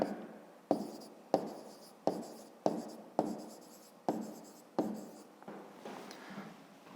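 Pen or pencil writing out a fifth-grade maths exercise, about ten sharp strokes in a steady rhythm, each decaying quickly, close and quiet with no talk.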